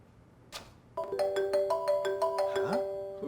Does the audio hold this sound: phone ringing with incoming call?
yes